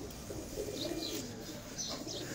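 Pigeons on a rooftop in Bakkar Mandi, with soft cooing and a few chirps over a steady background hum, moderately close and continuous.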